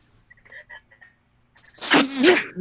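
A single close, forceful sneeze bursts out after a few faint, brief chirping sounds in near silence.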